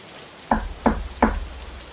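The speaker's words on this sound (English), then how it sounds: "another 3 knocks could be heard on the door" Three sharp knocks on a hotel room door, evenly spaced and close, each a firm single rap over a low steady rumble of background noise.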